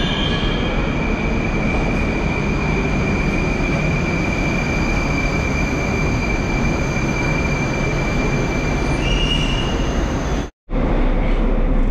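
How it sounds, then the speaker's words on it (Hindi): A suburban train near Moscow passes with a loud, steady rumble and roar, and high wheel squeals run through it. The sound cuts out abruptly for a moment near the end before it resumes. "ये सबअर्बन रेलवेज, सबअर्बन ट्रेन्स"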